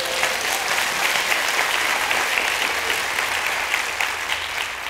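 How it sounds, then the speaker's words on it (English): A church congregation breaks into steady, full applause, a dense wash of hand clapping lasting several seconds without talk. "Let's give the Lord a hand clap for that."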